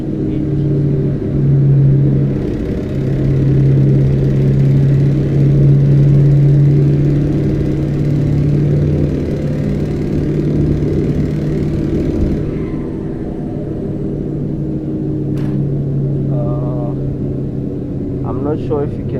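Truck engine in Euro Truck Simulator 2: a steady, loud low rumble and whir of a heavy diesel cruising, holding a constant drone under a man's brief speech.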